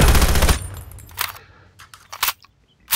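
Unsuppressed gunfire in Call of Duty Mobile: a loud opening burst of automatic fire, then scattered sharp single shots and short bursts of varying loudness, with no talk.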